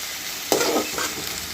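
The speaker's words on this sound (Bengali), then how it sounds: "এটা শুধু আলতো হাতে নেড়ে চেড়ে শুধু ভাজা ভাজা হবে।" Shrimp frying with ginger garlic paste and ketchup in a pan, sizzling steadily with a burst of louder stirring scrapes midway, close and alone.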